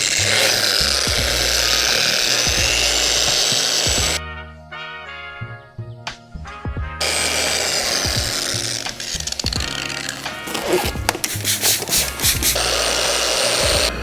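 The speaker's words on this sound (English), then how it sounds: "Now we're going to start our sanding process with our 1500 grit sanding pad to remove" A power sander with a 1500 grit pad works over an oxidized, delaminating plastic headlight lens, giving a loud, steady abrasive whir that breaks off for a few seconds partway through and then resumes, with scattered clicks and knocks.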